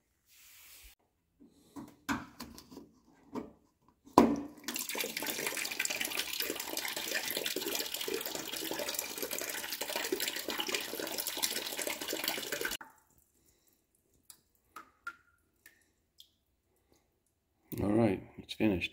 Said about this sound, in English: now we're going to drain the water out of the back of this little adapter here